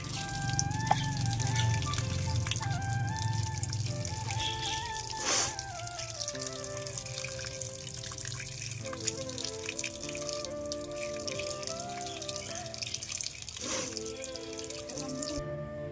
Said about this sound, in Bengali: তো এদিকে মাছগুলো সব ধোয়া হয়ে গেল।